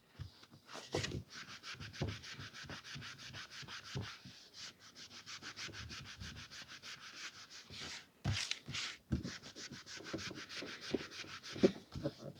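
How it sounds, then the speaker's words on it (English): A vintage Pan paperback book being polished by hand, a soft rhythmic rubbing and swishing of cloth across the cover, close and continuous with a few taps and pauses. "we're halfway through the polishing now"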